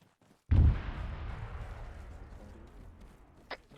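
A grenade goes off in a military video game: one loud, heavy boom that rolls off into a long, decaying rumble, with a brief sharp crack near the end.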